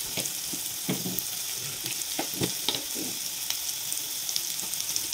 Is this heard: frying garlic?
yes